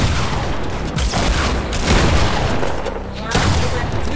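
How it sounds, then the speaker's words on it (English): Dense, loud gunfire in Fortnite, rapid overlapping shots in a continuous barrage with sharper cracks standing out, people talking over it. "they're both shooting up here now"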